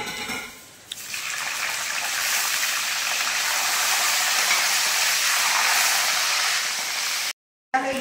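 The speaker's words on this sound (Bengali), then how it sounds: "এবার ওই একই তেলে দিয়ে দেবো বিনসগুলো" Green beans fry in hot oil after aubergine pieces, giving a steady, loud broadband sizzle that starts abruptly and holds evenly for several seconds before a brief cut-off near the end.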